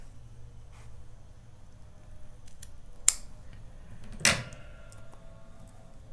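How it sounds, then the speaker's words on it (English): Scissors cut through crochet yarn with two short, crisp snips a second apart, close and fairly quiet, against low room hum and no talking. "And then you're going to cut your yarn."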